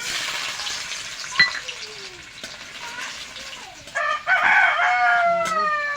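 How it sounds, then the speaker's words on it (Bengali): Chopped garlic sizzles in hot oil in a wok with a steady, soft frying hiss throughout, while a rooster crows loudly nearby toward the end. "এখন রসুনগুলো এভাবে লাল লাল করে ভেজে নিতে হবে।"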